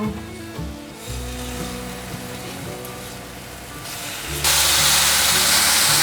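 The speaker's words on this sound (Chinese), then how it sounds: "锅内放入适量的油，马铃薯沥干水分放进来，把马铃薯炒至焦香" Potatoes, drained of water, frying in oil in a pan until browned, giving a steady sizzling hiss that swells louder near the end, over a continuous low background hum.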